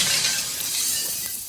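Glass shatters as a sound effect during a tabletop role-playing game, a loud sustained bright crash with tinkling debris spread across the whole moment and no voices over it.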